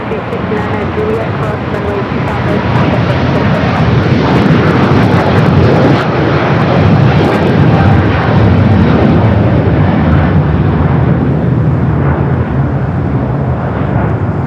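A Dubai Air Wing Boeing 747-400 at LAX roars loudly and continuously as a broad jet-engine rumble that slowly fades, while people talk over it.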